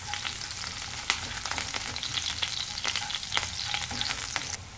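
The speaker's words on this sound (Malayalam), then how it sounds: "ഇഞ്ചിയും ഒന്ന് ചൂടായി വരുമ്പോഴേക്കും അതിനകത്തേക്ക് വെളുത്തുള്ളി ഇറച്ചു കൊടുക്കും" Garlic and ginger sizzle in a hot pan, giving a steady crackling fry broken by sharp pops and stirring scrapes, close and continuous with no talk.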